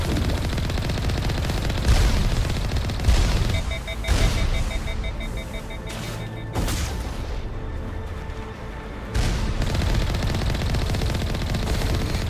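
Sustained automatic gunfire rattles in rapid bursts during a Mass Effect combat sequence, loud and close with booming hits and short pauses between volleys, while a voice speaks occasionally.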